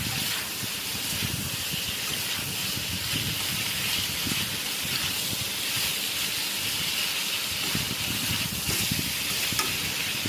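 Chopped tomato fries in a pan with drumstick pieces and potato while being stirred: a steady moderate sizzle and hiss with soft scraping and stirring movements throughout, and no talking.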